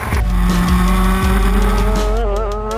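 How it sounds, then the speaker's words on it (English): A CRT shifter race car driven hard on a track, its loud engine note climbing steadily in pitch with strong harmonics and brief tire noise, close and continuous throughout. "Sabré Cook back at home behind the wheel, that CRT shifter, and she is looking good"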